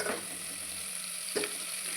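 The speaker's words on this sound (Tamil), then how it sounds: "நல்லா வதக்கி விட்டுக்கணும்." Small onions (shallots) sizzle steadily in a hot pan while a spoon scrapes and stirs them a couple of times.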